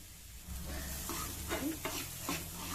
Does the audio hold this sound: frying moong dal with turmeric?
yes